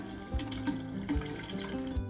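Water drains from a household water heater through a hose, a steady close gurgling rush with small surges roughly every half second and no voices.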